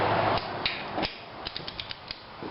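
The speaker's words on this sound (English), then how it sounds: "torque these rocker arm support bolts down to 18" Torque wrench tightening rocker arm support bolts on a Cummins diesel engine, with a soft ratchet sweep followed by a quick series of sharp metallic clicks close by, and no speech.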